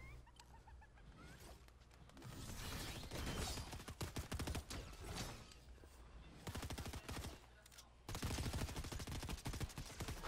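Rapid bursts of gunfire from a Fortnite match crackle through much of the stretch, dense volleys with short gaps, loud and close, mixed with game effects and no speech.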